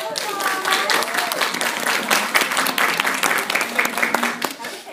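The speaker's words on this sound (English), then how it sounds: "let's give them a big round of applause" Steady applause from a crowd, loud and continuous, with cheering and voices mixed in throughout.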